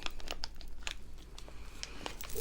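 Plastic bag holding an Easter-themed school pencil pack being sealed, with close, soft crinkling and small crackles in irregular bursts, heard alone without talk.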